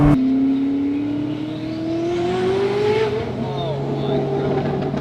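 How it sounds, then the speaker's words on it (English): Koenigsegg Jesko hypercar driving with its turbo spooling: a loud sustained engine drone with a rising whine that climbs steadily in pitch, heard from inside the car, with voices over it. "Oh, the turbo spool."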